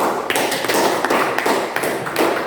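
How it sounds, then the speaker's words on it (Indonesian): Classroom applause, a short burst of clapping with uneven rhythm and irregular peaks, close by and lasting a couple of seconds, with no one talking. "Mari kita berikan aplaus"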